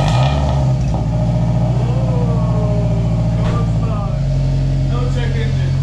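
A 2004–2010 Scion tC with a DNA Motoring catback exhaust idles and revs loudly and steadily close by, its deep rumble continuous throughout while people talk over it.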